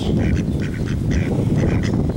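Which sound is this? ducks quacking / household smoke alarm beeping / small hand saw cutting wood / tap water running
ducks quacking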